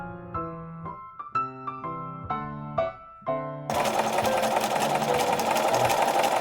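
After a few seconds of soft melodic notes, a sewing machine stitching a blouse facing in place from the hem starts up and runs in a continuous, fast, rattling whir until the end.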